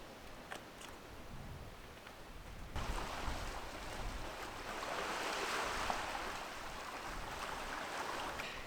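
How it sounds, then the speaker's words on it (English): Ocean waves crash against rocky cliffs on a remote stretch of Vancouver Island coast, a steady distant roar of surf that swells louder partway through, with wind and no voices. "the waves are crashing"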